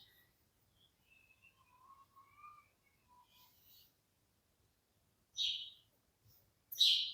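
Birds chirping outdoors, faint thin whistles early on, then two louder sharp chirps close by near the end, with quiet between calls and no talk.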